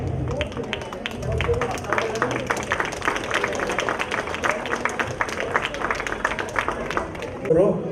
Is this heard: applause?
yes